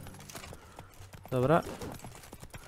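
A horse's hooves clop in The Witcher 3, rhythmic near hoofbeats under someone talking, with a brief tonal burst in the middle.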